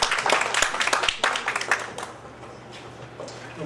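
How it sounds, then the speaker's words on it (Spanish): An audience at a lecture session applauds a speaker with dense clapping that thins out and tapers after about two seconds into scattered claps. "al doctor José Gerardo Ayala, a quien también les pido que demos un aplauso"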